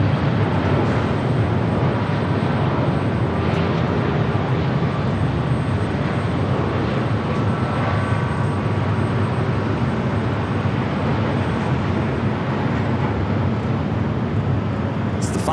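Boeing 767 arriving from JFK and landing on runway 24R at Los Angeles International Airport, a loud steady broadband jet roar that holds through the whole stretch with no talking over it.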